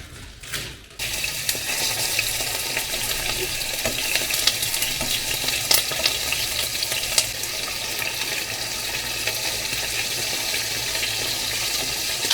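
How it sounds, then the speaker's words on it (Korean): Meat sizzles loudly in hot oil in a stainless steel frying pan, a steady, close crackling hiss after a brief clatter at the start, with no talk. "기름을 둘러서 살짝 튀기는 형태로 구워보도록 하겠습니다"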